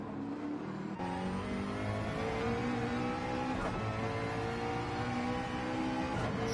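A McLaren GT race car's engine drones steadily in a racing game during a Nürburgring 24 Hours endurance event, the harmonic tone holding and rising slightly as it accelerates, loud and continuous with no talk.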